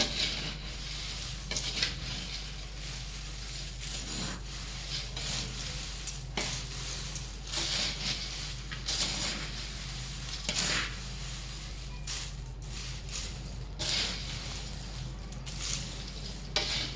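A spoon stirs fried poha chivda mixture, with fried corn flakes added, in oil in a pan for Nashik-style Diwali chivda, giving steady scraping and rustling with intermittent metallic clinks over a constant low hum, close and fairly loud.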